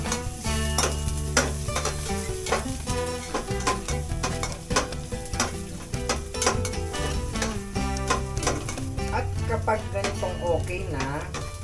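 Onion and garlic sautéing in a pan for a Filipino dish, a steady sizzle with frequent clinks and scrapes of a utensil stirring against the pan, with some background music throughout.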